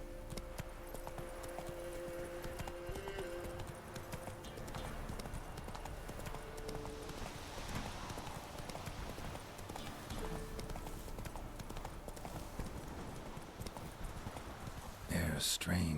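Roach the horse gallops in The Witcher 3, its hooves drumming in a steady rapid clip-clop over ambient game sound, ending in a louder clatter.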